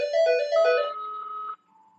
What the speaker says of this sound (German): und schon klingelt es hier an meinem Telefon und man hört es